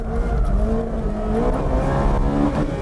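A car accelerating hard with its Manettino in race mode, the engine note climbing steadily and loudly through the revs, close and continuous.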